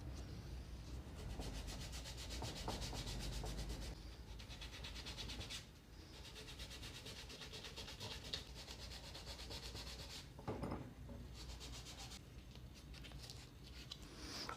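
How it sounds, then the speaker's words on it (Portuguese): Fine sandpaper, folded in half, rubbed by hand across a wooden workpiece carved with a diamond pattern, making steady, continuous close scratching strokes with brief pauses, alone without talk. "Agora a lixa fina, mesmo esquema."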